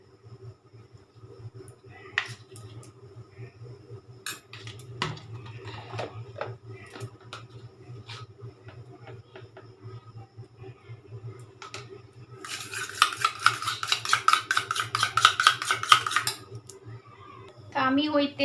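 Sour yogurt with salt is whisked in a bowl: scattered clinks of a utensil on the bowl, then a few seconds of rapid, rhythmic metallic beating close by, with quiet kitchen sounds around it.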